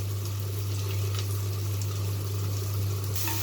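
Onions and dried red chillies fry in a pan outdoors while cooking a village-style chicken chinthamani, a soft continuous sizzle and crackle over a steady low hum, fairly close and without talk.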